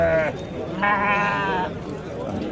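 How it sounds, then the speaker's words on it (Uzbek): An Edilbay sheep bleats twice nearby at a sheep market in Shahrikhan, a short call followed by a longer wavering one, over low background murmur. "Edilboy qo'ylarimiz sotiladi mana."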